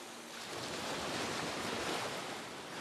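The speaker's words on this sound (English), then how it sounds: "coming to a habitat like this, a beach" Waves breaking on a beach make a steady, broad roar of surf that swells slightly and never lets up, with no voices.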